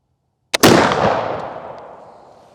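A single sharp flintlock rifle shot from a Traditions Deer Hunter, a brief pan flash followed almost instantly by the main blast. The loud, close report decays in a long rolling echo across the outdoor range.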